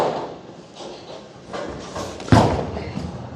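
A Motiv Apex Jackal bowling ball is released onto the lane, landing with a heavy thud, then rolls away in a low, steady rumble amid faint bowling-alley ambience.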